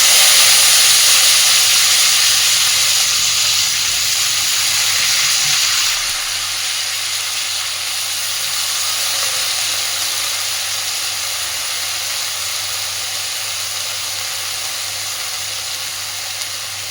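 Water lily stems coated in salt and turmeric hit hot oil with tempering spices, setting off a loud, continuous hiss that drops slightly partway through and then holds steady, without speech.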